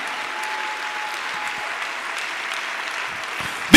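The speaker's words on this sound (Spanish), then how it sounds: "Si usted lo cree, denle un aplauso fuerte al Señor Jesucristo." Congregation applauding at a church Sunday school service, a steady dense wash of clapping that stays even and loud throughout.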